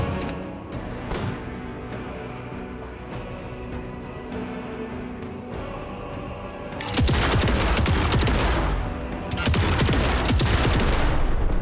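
Turret gunfire in a video game, loud rapid automatic bursts that start abruptly after a quieter stretch, pause briefly, then resume in a dense sustained volley.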